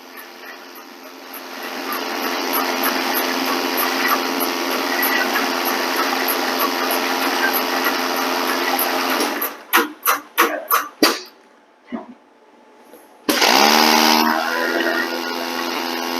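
A mix-while-dispense machine runs a final mix of a batch of materials: a steady motor whir, then several sharp start-stop pulses, a brief quiet gap, and the motor spinning up again.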